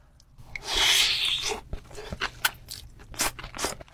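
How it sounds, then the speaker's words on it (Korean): Crunchy nasi goreng being eaten up close in a mukbang setting, with a loud, dense crunch burst early on followed by several sharper bites and chewing crunches at an uneven rhythm, no talking. "이 나시고랭도 먹어볼게요."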